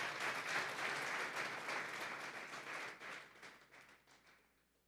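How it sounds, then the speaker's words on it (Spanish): A church congregation applauding during a sermon, dense clapping from many hands that starts full and steadily fades away over several seconds. "Denle un fuerte aplauso pues al Señor esta tarde"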